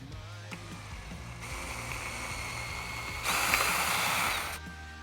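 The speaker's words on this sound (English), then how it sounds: "So all right, let's get to drilling." A power drill bores into the plastic base of an e-bike frame bag while a motor kit bracket is being fitted, whirring quietly at first and then rising into a louder grinding burst near the end.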